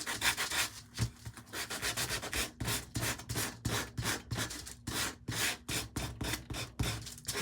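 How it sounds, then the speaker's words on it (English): A Dollar Tree craft piece is sanded by hand to distress it, giving steady rhythmic back-and-forth rasping strokes, close and continuous, with no voices. "I want to distress this first. All right, let's sand this."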